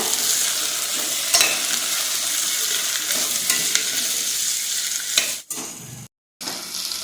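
Carrots, peas, beans and capsicum frying in a pan for a vegetable dish, a loud, close, continuous sizzle with occasional stirring clicks, briefly dropping out near the end before resuming.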